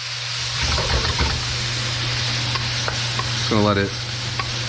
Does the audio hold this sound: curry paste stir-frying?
yes